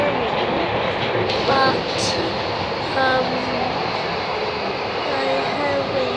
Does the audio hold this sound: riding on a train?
yes